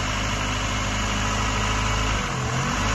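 A Chevrolet Aveo 1.5 engine idles steadily at about 1500 rpm with a dense, constant rumble, dipping briefly in pitch toward 900 rpm near the end before settling back.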